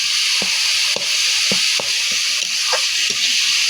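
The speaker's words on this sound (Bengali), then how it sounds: "যতক্ষণ না রসটা মরবে ততক্ষণ এইভাবে নাড়তেই থাকতে হবে।" Greens frying in a hot pan, a loud steady sizzle with repeated scraping stirs roughly every half second, close and continuous.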